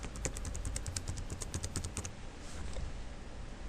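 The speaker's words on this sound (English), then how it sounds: "type in your password" Rapid keystrokes on a computer keyboard while a password is entered, a quick run of light clicking taps for about two seconds, close and clear, then a brief pause.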